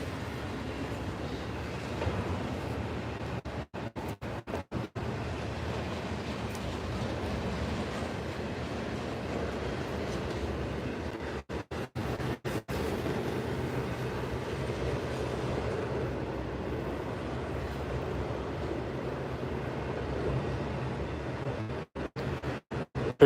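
A train rumbles past near a forest at night with a steady roar and rhythmic clacking of wheels on track, sustained throughout without any voices.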